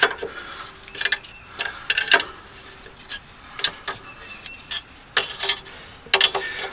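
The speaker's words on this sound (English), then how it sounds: "what I'll do is slowly work this in, turning all the bolt heads. Or the nuts." A hand wrench turning nuts while installing a new vehicle axle, giving irregular metallic clicks and ratcheting ticks spaced through the clip, close and moderately loud, with no talking.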